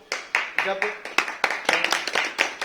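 Audience applause at an NGO seminar, heard as sharp, fairly regular hand claps about three per second, close and distinct, with a brief voice joining partway through.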